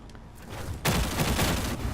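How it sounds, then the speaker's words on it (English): Mortar fire in Just Cause 4 arrives as a dull rumble that swells abruptly into a loud, sustained roar of blasts, close and dense. "Who the fuck is firing mortars at me?"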